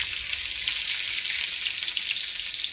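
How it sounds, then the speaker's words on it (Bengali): Dried chillies, black cumin and chopped onion frying in hot mustard oil give a steady, dense sizzle that stays even and fairly loud throughout, with no voices over it. "এবার দিচ্ছি 2টো শুকনো লঙ্কা, কালো জিরে,"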